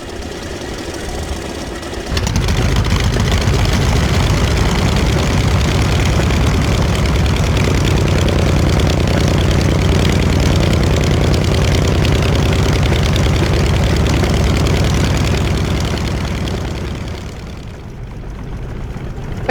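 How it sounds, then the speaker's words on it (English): Pratt & Whitney Double Wasp radial aircraft engine on a warbird cranking over and catching after about two seconds, then a loud, steady, deep rumbling idle near 800 RPM that fades off at the end. "that double wasp ticking over quite nicely now, just idling around 800 RPM for the time being"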